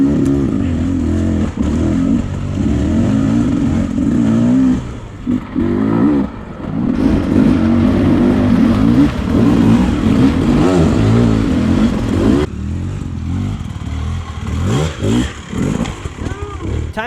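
A Beta 300 Race Edition dirt bike engine revving hard while riding, loud and close, with the pitch rising and falling through throttle changes, brief drops, and a rider's voice now and then.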